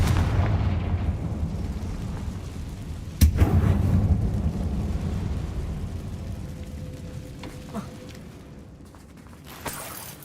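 A Confringo blasting spell detonates in Hogwarts Legacy with one sharp, loud boom, then a rumbling tail fades over several seconds, with a couple of smaller pops later.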